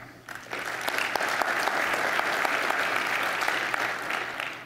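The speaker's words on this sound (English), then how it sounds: "So clap if you feel that California is faster than Alabama." A conference audience at OSCON 2012 claps loudly after a quick start, a full room of hands building into sustained, dense applause that holds steady and then tapers slightly at the end.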